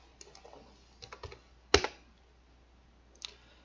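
A computer keyboard is typed on in a quiet room, with a few scattered soft keystrokes, one sharper louder clack in the middle and a final tap, all close.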